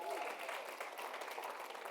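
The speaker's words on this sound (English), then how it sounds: "another round of applause" Audience applause at a Pavilion CRO Summit gathering in Atlanta, a fairly faint, steady patter of many hands clapping that holds for about two seconds, with speech underneath.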